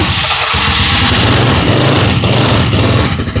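A 300cc motorcycle engine starts and settles into a loud, close, rough idle that throbs steadily throughout.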